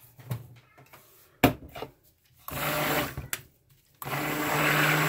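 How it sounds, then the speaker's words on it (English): A stick blender whirs through a batch of hot handmade soap in two sustained buzzing runs. Before them come a few knocks and clatters against the container, close up and with no voices. "Did I stick blend it the first time?"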